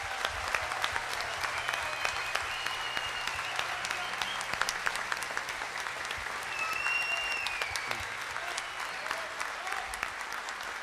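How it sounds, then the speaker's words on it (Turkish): An audience at a Turkish folk music choir concert applauds the orchestra with steady, sustained clapping that stays dense and even for around eleven seconds, with faint tonal sounds in the background. "Ne olur en çok alkışınızı bu mükemmel orkestra, orkestra için"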